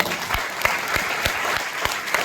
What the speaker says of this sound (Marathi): सरांसाठी जोरदार टाळ्या वाजवा